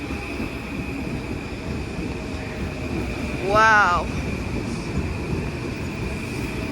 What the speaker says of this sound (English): M8 arriving.